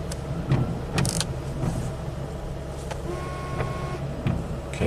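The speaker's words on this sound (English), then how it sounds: "there go the wipers" Windshield wipers on a Jeep with a malfunctioning cluster switch on by themselves, heard as mechanical whirring and soft thumps over a steady idling hum inside the cabin, with a faint electronic tone partway through.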